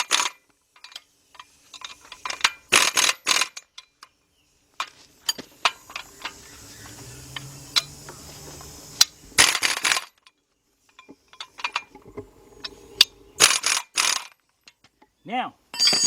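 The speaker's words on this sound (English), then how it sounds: "now I'm going to go in and tighten up a little bit better, put my wrench on it" Wrench tightening bolts on the 3.7 engine of a 2003 Jeep Liberty Sport during a partial rebuild: bursts of metallic ratcheting clicks separated by pauses, with someone talking at times between the tool sounds.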